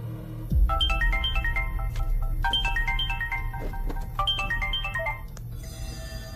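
A phone ringtone for an incoming call plays three repeated bursts of a bright, stepped electronic melody, clear and steady over a low background hum, with no talking.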